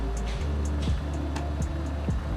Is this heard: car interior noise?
yes